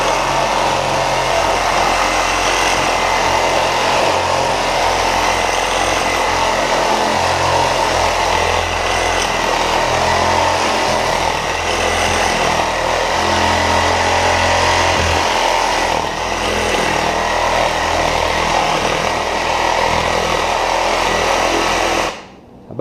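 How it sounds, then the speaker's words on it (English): A reciprocating saw fitted with a dull blade cuts through a whitetail deer carcass while caping for CWD compliance, a loud, steady buzzing grind running nearly unbroken for over twenty seconds before stopping abruptly at the end. "It would have been a brilliant idea if I'd have put a sharp Sawzall blade in."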